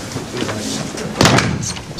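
A door shuts with a single firm thud partway through, heard against a busy indoor room tone with no speech over it.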